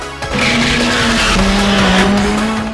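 A car drifting in Initial D, its engine droning steadily while tires squeal in a long sustained screech, loud and close throughout, with the engine pitch shifting midway.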